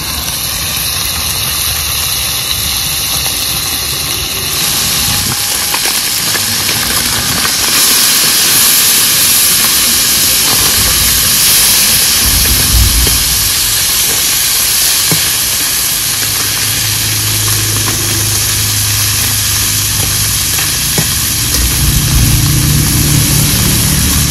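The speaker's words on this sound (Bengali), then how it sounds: "এই চুনো মাছ ভাজতে অনেক তেল লাগে" Loud, continuous sizzling and hissing of small fish frying in plenty of oil fills the whole stretch, steady and close, with occasional crackles.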